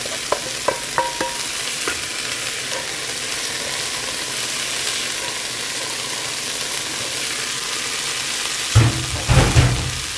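Bean sprouts tossed with a pre-fried seasoning paste and chopped green onion in a pan over medium heat, giving a steady low sizzle with a few early clinks and a louder burst of stirring and scraping near the end.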